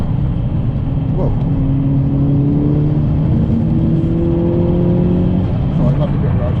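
Volkswagen Golf Mk6 GTI accelerating on a wet road, engine note climbing in rising sweeps over steady road roar and tyre hiss, heard from inside the car.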